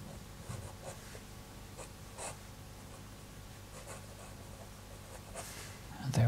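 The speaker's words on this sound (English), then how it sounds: "So we cross over the thumb and we write like this." Pen writing on paper held in a lateral tripod grip, soft scratchy strokes repeating in short bursts, close and faint over a low background hum.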